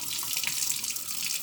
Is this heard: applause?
no